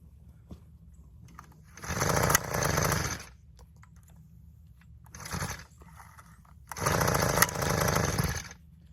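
A small garden tiller engine revs hard at full throttle in bursts, loud and close, dropping back to a low idle between surges.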